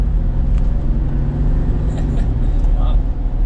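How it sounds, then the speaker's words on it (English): A Mercedes-Benz G550 4x4 Squared pulls out of a parking lot under light throttle, a steady low engine and road rumble heard from inside the cabin, smooth rather than loud. "pulling out of the parking lot here, just give it a little bit of gas using the paddles"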